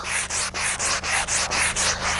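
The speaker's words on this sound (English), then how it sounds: "just taking out all of my tooling marks now. I'm actually using a piece of abranet" P80 Abranet abrasive is rubbed on ceramic to remove tooling marks, giving about nine close, loud, even back-and-forth scratchy strokes in a steady rhythm.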